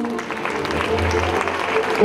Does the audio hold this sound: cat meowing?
no